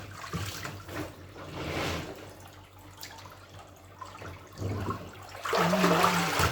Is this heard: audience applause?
no